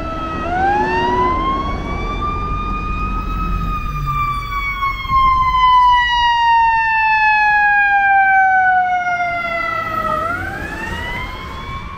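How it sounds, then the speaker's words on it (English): A fire truck passes along a Toronto street, its wailing siren rising and falling loudly over a low engine and traffic rumble, close at hand for the whole stretch. "Oh, it's a fire truck I'm hearing."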